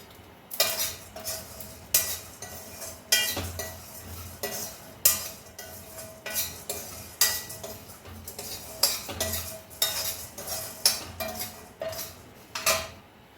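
Lentils and a few fenugreek seeds being stirred while they roast in a pan for gongura chilli powder, heard as a regular series of close metallic scrapes and clinks of the spoon against the pan, with no talking.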